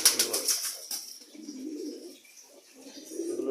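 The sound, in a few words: male pigeons cooing as they are released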